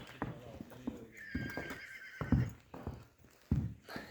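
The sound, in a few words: Kyrgyz karabair horse neighing and stepping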